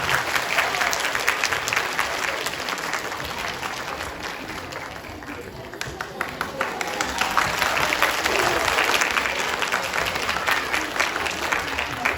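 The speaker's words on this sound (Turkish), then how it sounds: "Şimdi kuvvetli alkışlarınızla yavrularımızı sahneye alalım." An audience at a children's Quran course graduation ceremony applauds warmly as the children come on stage, a dense, sustained clapping that holds for over ten seconds, easing slightly midway before swelling again.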